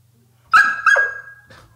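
A dog gives two sharp barks in quick succession, followed by a fainter short yip, close to the microphone in a quiet indoor room.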